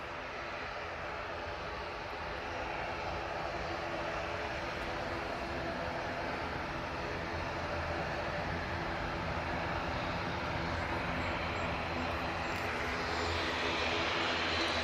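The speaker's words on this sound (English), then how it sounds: "It's the Lufthansa A320-200 coming in from Munich" A Lufthansa Airbus A320-200 arriving from Munich on approach to Manchester Airport produces a faint, distant, continuous engine drone that grows slightly louder over time.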